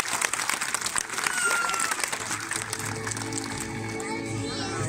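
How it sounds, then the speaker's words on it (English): Applause rises from a zoo audience at the Blackpool Zoo sea lion show, a dense wash of clapping with children's voices and crowd chatter mixed in, fading toward a steadier crowd murmur. "Give them a big round of applause"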